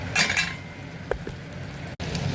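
Washed chicken going into hot oil with fried onions, ginger and garlic for gongura chicken curry, a soft sizzle with clinks of a metal spoon against the pan and a brief bump near the end.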